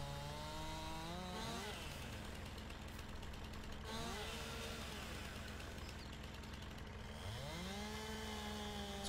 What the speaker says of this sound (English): It's goofy chainsaw sounds.